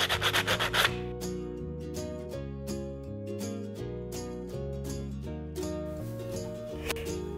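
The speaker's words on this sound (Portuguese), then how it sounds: "Agora a gente vai lixar para tirar a rebarbinha" Sandpaper rubs rhythmically against the cut edge of a PVC pipe, removing the burr. Repeated close scraping strokes run steadily throughout, with a brief burst of faster rubbing at the start.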